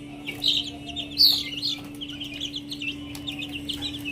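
Boston Roundhead fighting chickens make a few short clucks and chirpy calls, with two louder bursts early on, over a low steady background hum.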